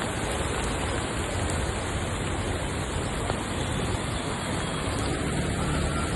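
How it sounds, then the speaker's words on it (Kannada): Steady rain falls during a hailstorm in Bangalore, a dense, even hiss with constant loudness throughout and no voices. "ನೋಡಿ ಇಲ್ಲಿ ಮಳೆ ಬರ್ತಾ ಇದೆ"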